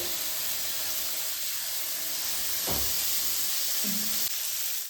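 Fish frying in a pan for a Kerala-style pollichathu, giving a steady loud hiss and sizzle of hot oil throughout, with a brief sharper burst near the middle and no talking.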